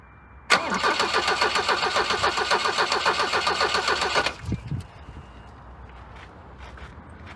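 A Volvo 240 bought for $600 at auction cranks on a first start attempt without catching, a loud steady rhythmic churn lasting about four seconds before cutting off, followed by quiet shuffling.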